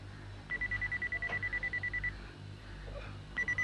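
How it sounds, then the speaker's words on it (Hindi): A toy robot gives off a rapid run of regular electronic beeps, about a dozen evenly spaced pulses, then a pause and a few more beeps at the end, set against a low indoor hum. "Mister robo, beep beep."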